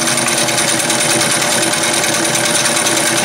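A 1975 Singer Fashion Mate 360 sewing machine stitching through layers of basic cotton, a loud, dense, steady mechanical whir and rapid needle chatter running unbroken and close.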